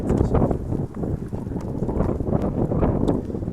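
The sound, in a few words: wind blowing outdoors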